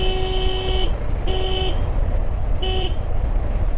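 A motor vehicle horn honks on a hilly road in Bandarban during a motorbike tour: one long blast, then two shorter ones, loud and close over a constant engine rumble.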